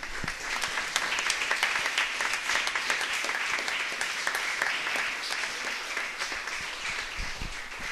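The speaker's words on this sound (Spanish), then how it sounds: "brinden un aplauso al Señor" A church congregation applauds during a Spanish-language service, a sustained, lively wash of many hands clapping together at steady volume for several seconds with no speech over it.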